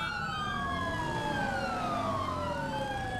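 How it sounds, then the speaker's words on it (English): Police sirens in the Dept. of Justice Cops video game, a steady wailing tone that slides down in pitch over a low engine hum, heard on its own with no talking. "I hear sirens everywhere"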